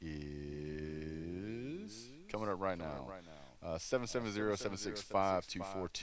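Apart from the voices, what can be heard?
No distinct noise like a dog, phone or traffic.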